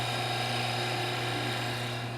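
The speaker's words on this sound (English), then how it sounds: "Power washer going, let's go." A power washer runs in a steady, even drone with a buzzing motor tone, heard close up and unchanging for a couple of seconds.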